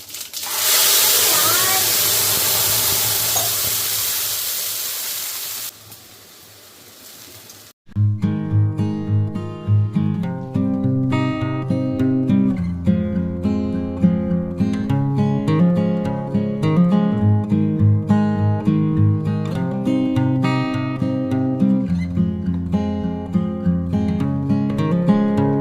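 Cumin and spice masala sizzle in oil in a kadhai with a loud, steady hiss for several seconds, then the hiss fades out and music takes over.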